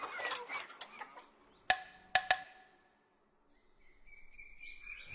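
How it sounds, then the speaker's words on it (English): Farmyard hens cluck and squawk in short, sharp bursts close by, followed by a quieter stretch and then some faint, higher bird calls. "Cluck, cluck. The hens were laying eggs."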